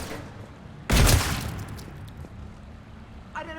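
A sudden loud burst of gunfire erupts in the Mass Effect video game, decaying into a rumbling tail, followed later by a short rattle of further shots.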